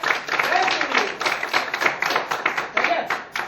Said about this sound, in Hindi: बताओ ताली